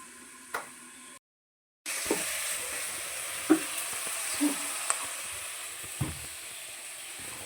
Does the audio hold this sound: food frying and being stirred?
yes